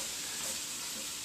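Onion sautéing with pork in a hot pan gives a steady, even sizzle with faint stirring scrapes, close and continuous with no talking.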